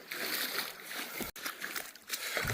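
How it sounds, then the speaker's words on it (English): Footsteps splash and slosh through shallow water while walking down a river in Coyote Gulch, a steady wet churning close by with a brief pause midway. "I think I'll just walk down the river,"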